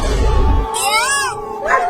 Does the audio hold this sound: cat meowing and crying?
yes